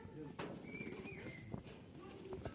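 Giribaz pigeons coo softly close by in a short burst, low throaty calls mixed with faint chirps and light rustling, while someone speaks over them.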